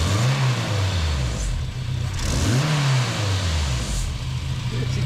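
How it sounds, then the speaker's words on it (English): A turbocharged Acura RSX Type S engine revs hard twice, each burst rising and falling in pitch over a steady running engine, loud and close. "I'm gonna hit the throttle."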